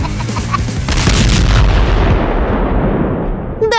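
A loud explosion blasts at once and then rumbles and fades over several seconds, with no voices.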